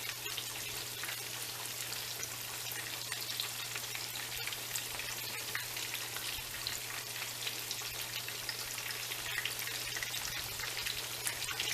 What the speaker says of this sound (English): they fry up so nicely in this big giant pan